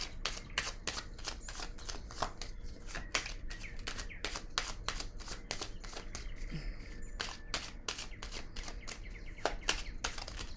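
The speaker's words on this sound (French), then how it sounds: "Je vais piger une petite carte ici" Tarot cards being shuffled and drawn from a deck: a long run of rapid, crisp card flicks and riffles, close and steady in rhythm, with a faint chirp in the background and no speech.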